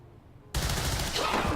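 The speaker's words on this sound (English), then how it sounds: "fire the first shot of the campaign" A soldier fires a gunshot in the strategy video game XCOM 2, a sudden loud blast after near silence that rings out into a dense, sustained burst of noise, with no voices.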